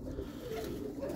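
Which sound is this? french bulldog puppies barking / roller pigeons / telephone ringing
roller pigeons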